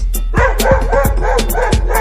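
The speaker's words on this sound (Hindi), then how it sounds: "वो कुत्ता डर के मेरे पास आने लगा" A cartoon dog barks in a quick, regular string of loud yips and bow-wows, close and clear, with no talking over it.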